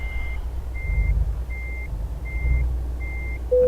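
A truck's steady reversing beeper in Euro Truck Simulator 2, five evenly spaced electronic beeps over a low idling diesel engine rumble while backing up.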